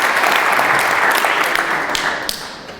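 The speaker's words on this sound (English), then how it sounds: "Give Rose a round of applause." A burst of dense applause from an audience, strong at first, then gradually tapering off with a few scattered claps at the end.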